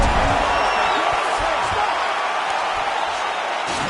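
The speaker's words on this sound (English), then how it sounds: "So the crowd voicing its appreciation after that round." A UFC arena crowd cheers and roars after a round of the Mickey Gall versus Kelvin Gastelum fight, a dense, steady wall of loud crowd noise with no distinct voices standing out.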